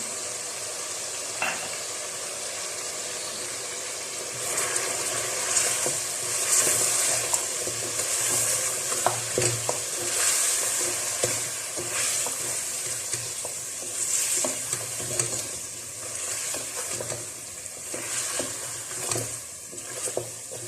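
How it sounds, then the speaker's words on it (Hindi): Mutton fries with nihari masala in a pot, giving a loud, continuous sizzle with frequent scraping and clinking from stirring that swells and eases across the whole stretch. "अब मैं इसके अंदर निहारी मसाला ऐड करके 5 मिनट मजीद भूनूंगी"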